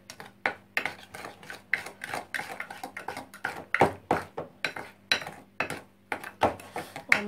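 Chocolate mousse mixture stirred in a bowl with a whisk or spoon, steady rhythmic scraping and clinking strokes against the bowl, close and clear with no talk.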